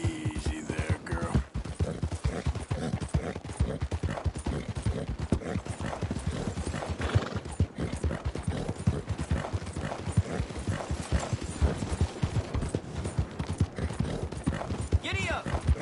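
A horse gallops in Red Dead Redemption 2, with rapid, rhythmic hoofbeats pounding steadily and close throughout, a brief whinny near the start, and a rider's voice speaking over the clatter.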